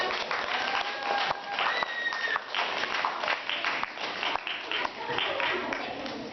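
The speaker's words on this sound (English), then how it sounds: "Clap it out" A group of people claps in a lively burst of applause, close and fairly loud, with voices speaking and calling out over it.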